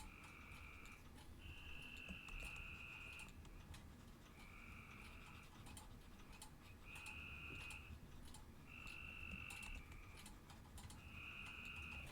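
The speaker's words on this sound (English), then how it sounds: "When the frog noises began, I thought it was our phone ringing." Frogs croak in repeated trilling bursts about a second or two long, with short gaps between them, fairly faint and distant over a quiet low background hum, with no talking.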